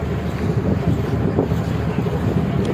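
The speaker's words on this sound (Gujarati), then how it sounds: "પવન બહુ છે દરિયામાં વાવાઝોડુંને" A strong stormy wind roars steadily and loudly across the open sea, buffeting the microphone with a constant rushing noise.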